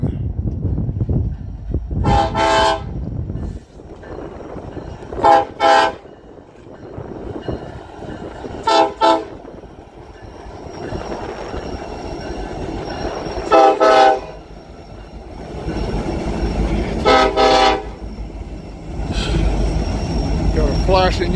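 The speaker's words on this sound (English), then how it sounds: "So you get to see a train across the bridge after it's done." A train rumbles across a bridge with a steady rolling roar, broken by several loud horn blasts, while a voice talks over it now and then.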